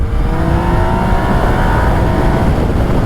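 A Yamaha Niken three-wheeled motorcycle accelerates hard, its engine note rising loud and near over constant wind roar, with no speech.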